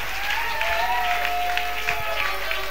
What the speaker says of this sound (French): Acclame très fort pour toi-même.